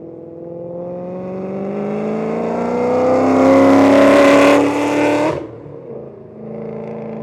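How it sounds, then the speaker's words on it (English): A loud V8 car engine roars past at a race track, its pitch rising steadily as it nears, then dropping sharply as it passes and fades into the distance. "I think that's got to be the loudest car here. I can still hear it from way down there."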